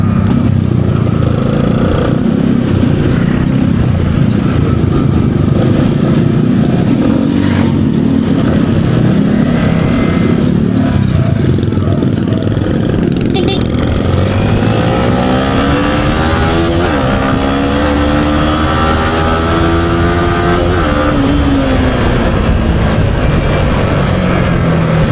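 A repaired motorcycle engine runs loud and steady close by, its pitch climbing and falling as it revs up and settles back, with no voices over it.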